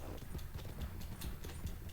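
Horse hooves clip-clop in a steady, even walking rhythm in the Red Dead Redemption 2 video game, moderately quiet over a low background hum, with no talking.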